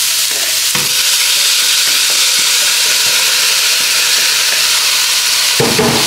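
Rice fries in butter while being stirred, giving a loud, dense and unbroken sizzle right up close, with faint scraping of the spoon and a couple of soft knocks.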